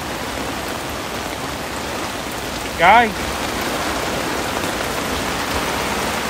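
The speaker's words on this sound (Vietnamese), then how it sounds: "quá gió mà cũng quá mưa luôn, mưa lớn quá" Heavy rain pours down in strong wind during a stormy afternoon downpour, a steady, dense hiss that fills the whole stretch, with one brief spoken word partway through.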